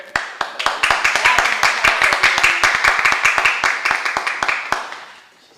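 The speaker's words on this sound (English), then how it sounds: "One more round of applause for" An audience at a county commissioners' special presentation claps steadily in a dense, even patter of many hands that runs for about five seconds before trailing off.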